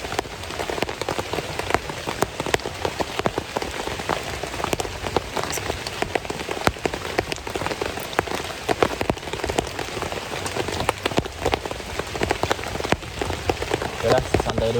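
Heavy rain falls steadily over a camping spot, with dense crackling patter on surfaces and scattered louder drops, close and continuous throughout with no clear talk.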